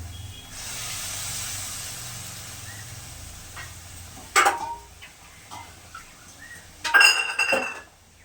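Dishes and a bowl clink in a home kitchen while rohu fish curry is being cooked, two sharp bursts of clattering and rinsing over a low steady hiss, close and otherwise quiet, with no talk.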